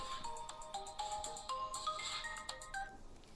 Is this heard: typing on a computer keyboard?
no